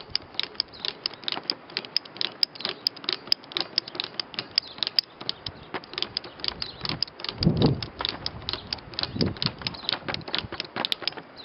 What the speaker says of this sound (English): Insert your screwdriver, your Phillips head screwdriver, and go ahead and tighten it up.